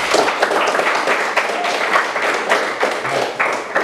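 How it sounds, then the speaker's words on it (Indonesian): A classroom of students clapping their hands to reward a good answer, a dense burst of mixed claps and taps that stays lively and near for a few seconds, with some faint voices underneath. "Tepuk tangan dulu."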